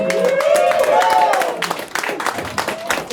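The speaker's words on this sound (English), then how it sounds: "Keep the applause going for my boy Montana." Audience applause at an open mic comedy night, dense clapping and crowd noise that stays loud for about a second and a half and then thins to scattered claps, with voices over it.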